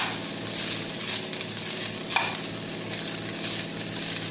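Coconut rice is stirred through in a pan with a soft continuous sizzle and a spoon scraping and turning it, close and quiet with no talking.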